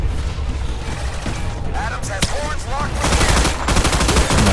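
Naval gunfire in the Battleship video game on PS3: sustained rapid bursts of shots crackle under faint voices, swelling into a louder, denser volley near the end.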